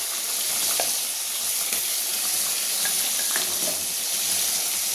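Fish curry with fried rohu pieces simmers in a pan, giving a steady, soft sizzle and bubbling hiss with faint clicks, alone and fairly quiet throughout.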